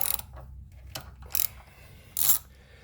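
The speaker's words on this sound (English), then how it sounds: "6mm Allen head, just to nip the axle bolt." A 6mm Allen key works the axle bolt on a Triumph motorcycle, giving a few short metallic clicks and ratcheting scrapes spaced across a quiet moment, close and crisp.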